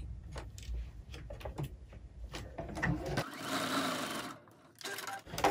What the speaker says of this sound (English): I'm gonna line up the side of my presser foot with the line that I just quilted there